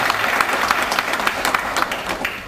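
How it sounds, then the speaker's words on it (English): Audience applause at a college library conference's inaugural function, with individual claps standing out in an uneven, lively patter that stays fairly loud and close before easing slightly at the end. "the library professionals should give a big clap to management of this college"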